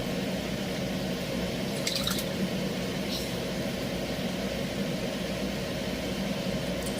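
Sauce simmers and sizzles softly in an unwashed pan still holding the residue from seared steaks, a faint, steady bubbling hiss with no talking.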